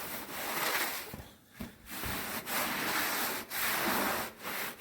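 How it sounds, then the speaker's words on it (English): A cloth wipes down the dusty, grimy hood of a Farmall Super tractor, giving steady close rubbing swishes that fill the clip, broken by a few brief pauses between strokes. "So we're going to wipe this down."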